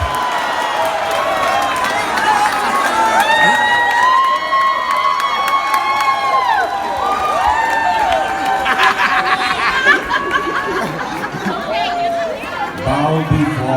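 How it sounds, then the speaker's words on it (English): Passengers clapping and cheering for ship's officers at an Atlantic crossing ceremony aboard a cruise ship, lively crowd noise with shouts and chatter, while a person speaks over it. "Big round of applause for Werner and Eusebio, our officers."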